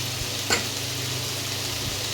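Potatoes frying in oil in a pan give off a steady, close sizzle, an even hiss with faint crackles throughout and one brief sharper pop.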